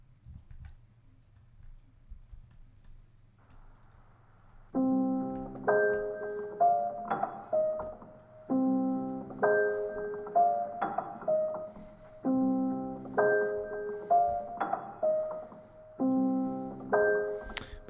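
Piano sample from the Mono Broadcast library by Noir in Kontakt plays a looping melodic phrase of stacked chords and single notes, repeating in four clear cycles after a faint low hum intro, moderately loud and alone.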